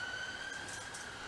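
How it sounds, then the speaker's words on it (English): Distant ambulance siren heard from indoors, a faint, steady wailing tone over low background hum, with no talk. "ambulance or whatever it is outside"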